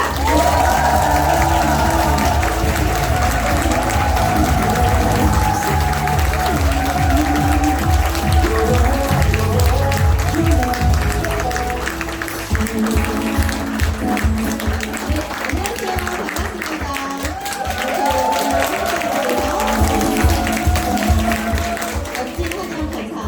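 An audience at an evening company event applauds as a speaker is welcomed onto the stage, with sustained clapping and crowd noise under amplified speech and stage music.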